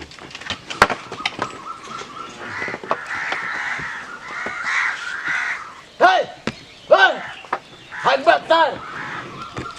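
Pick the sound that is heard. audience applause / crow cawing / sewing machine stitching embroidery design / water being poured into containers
crow cawing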